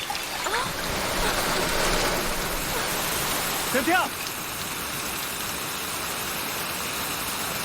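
Rain falls in a steady, even hiss. A voice shouts once partway through.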